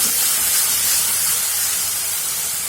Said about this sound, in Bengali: টমেটো কেচাপটা দেওয়ার পরে ভেজে নিয়েছি